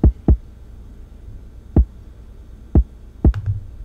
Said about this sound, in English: my interpretation of that type of kick is a sort of a heartbeat kick